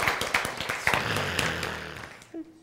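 Audience applause during a lecture on the Bible and science: a short burst of claps right at the start that quickly thins out and fades as a voice takes over.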